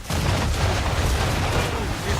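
A gunboat firing on the player's ship in Assassin's Creed III comes through as a continuous loud, rumbling roar of cannon fire and low booms with no clear gaps between blasts.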